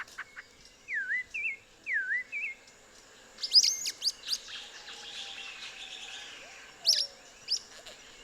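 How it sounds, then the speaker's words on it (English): Thicket tinamou and sulfur-bellied flycatcher calling in open countryside: a series of clear, sliding whistled notes early on, then sharp, squeaky chirps and trills, close and fairly faint against a quiet background. "I'll stay with the thicket tinamous, the milpa, and the sulfur-bellied flycatcher."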